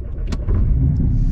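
A Porsche 718 Cayman GTS engine fires up with a brief starter whir, then settles into a deep, loud, steady rumble close by.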